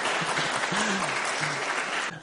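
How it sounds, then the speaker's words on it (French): A short burst of clapping for children in a church gathering, a dense round of applause that runs steadily and stops abruptly near the end. "On peut les applaudir un petit peu,"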